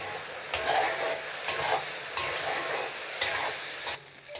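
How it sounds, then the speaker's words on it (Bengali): Tomato paste and garlic sautéing in a pan of fried onions for a fish bhuna, with a continuous sizzle broken by about five sharp scrapes of a spatula stirring at a regular pace, close up. "এটা আমি 2 থেকে 3 মিনিট কষিয়ে নেব।"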